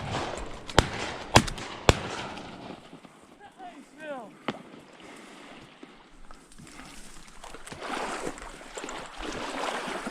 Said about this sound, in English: I fired one shot.